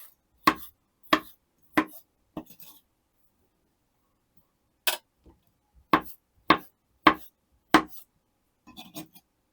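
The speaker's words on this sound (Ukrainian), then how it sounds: "Моркву теж подрібню." Knife chopping carrots on a cutting board while making pumpkin cream soup: sharp, close percussive chops in short bursts, a few separated strikes then a pause and another quick run of cuts, with no talking.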